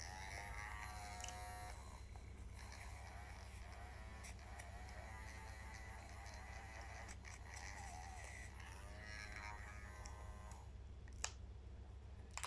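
Battery-powered face washing device running with a steady, continuous electric buzz and hum throughout, close and unchanging, with a small click near the end.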